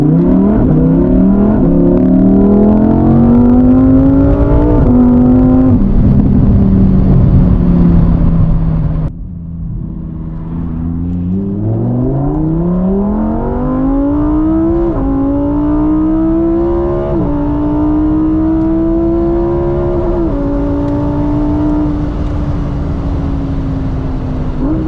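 A Lamborghini Huracán EVO in Corsa mode revs hard and up close, its engine climbing through several rising sweeps with brief dips between shifts, a sharp cut around the middle, then climbing again loudly.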